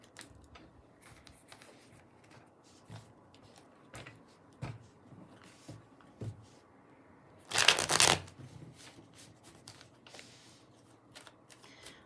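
Tarot cards from the Dark Woods and Ethereal Tarot decks are handled and shuffled close by, with soft scattered taps and slides, then one loud riffling burst, followed by more quiet card handling.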